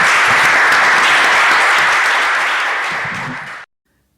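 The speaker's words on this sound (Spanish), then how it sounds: "Y los que estamos, un aplauso, por favor." Steady, dense audience applause at the close of a virtual debate event, loud and continuous for several seconds before stopping abruptly, with no talking over it.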